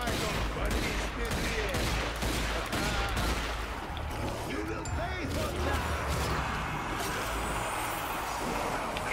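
Small handgun shots in the Zombie Army 4: Dead War video game, scattered through a dense, continuous wash of loud game noise and rumble, the cracks only partly standing out from the mix.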